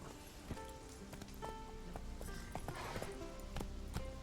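Horse Roach's hooves clip-clopping in The Witcher 3: Wild Hunt, a quiet, steady run of hoof taps at a trotting pace under faint ambient sound.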